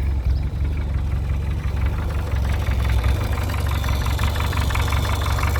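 A 1993 Reliant Robin's small engine idles steadily, a close, continuous low rumble with a faint rhythmic knock and slight vibration, no voices over it.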